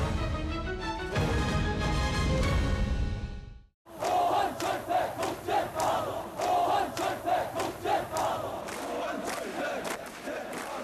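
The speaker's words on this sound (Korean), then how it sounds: "호헌철폐, 독재타도라는 함성이 거리에 울려 퍼졌습니다" A street protest on 10 June 1987: a large crowd roars and chants slogans in rhythmic, repeated bursts. It is dense and loud throughout, and an earlier musical passage cuts off abruptly just before the chanting starts.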